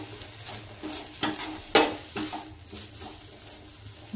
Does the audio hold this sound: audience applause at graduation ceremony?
no